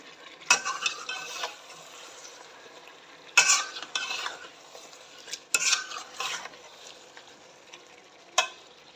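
A spoon stirs chicken masala with soy sauce in a pan, with four separate bursts of close scraping and clinking against the metal and soft sizzling between them.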